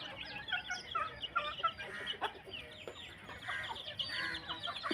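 Mother hen with her young chicks foraging together, with repeated soft clucks and high chick peeps scattered throughout, close by and fairly busy, no talking.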